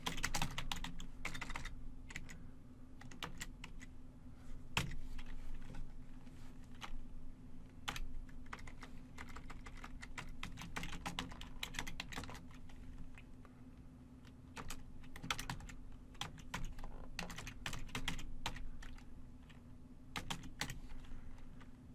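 Fingers type on a computer keyboard in a long run of quick, irregular key clicks, close but quiet over a low steady hum, with occasional harder taps.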